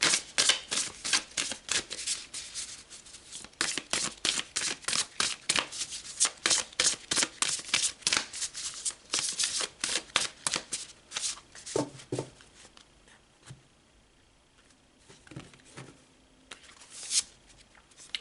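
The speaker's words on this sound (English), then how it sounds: "let's pull some more of these cards" Tarot cards are shuffled in a long run of fast, crisp riffling bursts close by, which ease into softer card handling and a few quiet sounds as cards are drawn.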